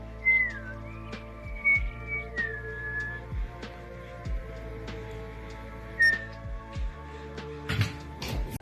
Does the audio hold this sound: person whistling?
yes